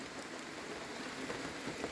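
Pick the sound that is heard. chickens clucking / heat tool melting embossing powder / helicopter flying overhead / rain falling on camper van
rain falling on camper van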